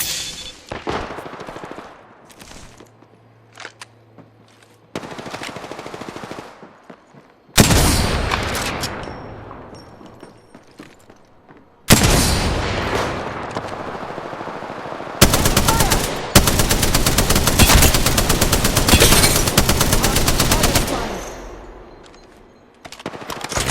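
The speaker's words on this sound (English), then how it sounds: "Opening fire. Shots fired, and they're hitting me." Gunfire in the video game Apex Legends comes in loud, rapid bursts and heavy volleys, broken by quieter gaps and sudden booming shots.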